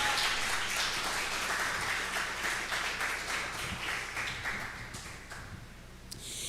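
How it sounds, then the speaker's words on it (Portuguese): Congregation applause in a church, a soft steady patter of clapping that slowly thins and fades, with no voices over it. "Você pode aplaudir ao Senhor?"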